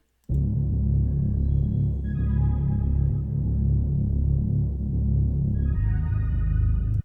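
A sustained synth chord over a deep, steady bass line, dry and unprocessed, with the harmony shifting twice and no talking.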